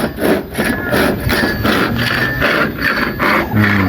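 Wood is cut by hand with a rhythmic back-and-forth sawing stroke, close and fairly loud, repeating steadily with a rasping scrape.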